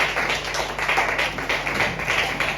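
A church congregation applauds together during a Sunday thanksgiving service, a steady, dense wash of clapping that holds at an even level throughout, with no voices on top.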